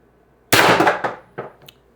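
A Pistelle X-68 paintball marker running on a 36g CO2 tank fires a loud, close shot with a sharp metallic crack and ringing tail, then a fainter second pop and a small click.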